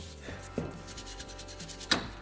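Carved wooden robin held in a vise being shaped by hand, with soft repeated rubbing and scraping strokes and a couple of sharper scrapes, close and fairly quiet.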